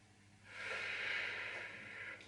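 A single long, breathy exhale during a gentle shoulder mobility exercise after cancer, a soft close hiss that swells and fades over about two seconds.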